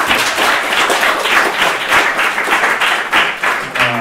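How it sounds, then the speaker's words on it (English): An audience at a Startup Grind Vilnius event applauds steadily for the co-founder and CEO of Oberlo, a dense, loud wash of many hands clapping at once that carries on without a break and thins slightly near the end. "Let's give a nice round of applause"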